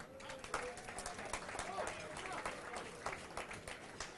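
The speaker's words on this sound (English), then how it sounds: "Well, round of applause for Mossyman's." A quiet round of clapping rises at a charity gala dinner, scattered hands across the room under a murmur of guest chatter and background voices, fairly distant and low in level.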